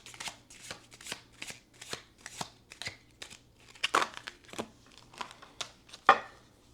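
A deck of tarot cards is shuffled and flipped close up, making quick papery riffles and soft slaps in uneven bursts, with one sharper snap near the end and no talk.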